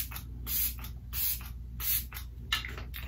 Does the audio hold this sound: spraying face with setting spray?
yes